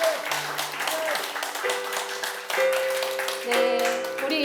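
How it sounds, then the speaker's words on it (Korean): A church congregation applauds in praise of God after a prayer, a steady wash of clapping under sustained keyboard or organ chords, with voices mixed in. "우리 하나님께 영광의 박수 올려드립니다."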